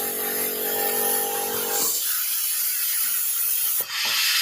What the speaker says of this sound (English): when the switch is off, the cylinder piston will move outside.